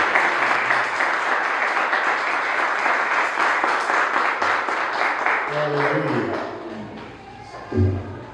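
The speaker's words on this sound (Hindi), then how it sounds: "एक जोरदार ताली लगाइए खुदावंद के नाम की।" A Pentecostal church congregation claps loudly and continuously in the name of the Lord, a thick wash of hands that thins out near the end, with a few scattered voices and a thump at the close.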